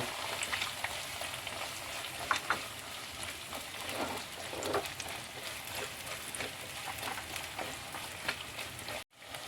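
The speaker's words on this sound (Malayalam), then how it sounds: "ഇനി നമുക്ക് ചെറിയ ഉള്ളി ഇടാം" Small shallots frying in a pan of oil for a sardine and taro curry give a steady, close, even sizzle that runs unbroken with no talk, ending in a sudden cut.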